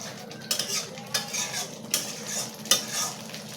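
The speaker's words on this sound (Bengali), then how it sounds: "মশলাটা ভালো করে কষে নেবো" Spice paste fries in oil in a pan for papad curry while a spoon stirs and scrapes it, giving soft steady sizzling broken by repeated close scraping strokes.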